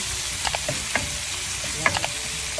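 Ginger sizzles and fries steadily in a hot pan for an acqua pazza seafood dish, with a continuous crackling hiss up close and a few soft stirring clinks and taps.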